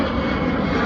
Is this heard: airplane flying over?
yes